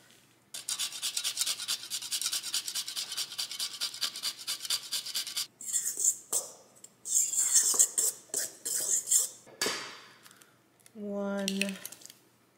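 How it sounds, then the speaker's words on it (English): Whole nutmeg rubbed against a kitchen grater, giving a rapid rasping scrape for several seconds, then a few shorter scraping strokes and a brief clink of utensils near the end. "I'm just going to grind the nutmeg"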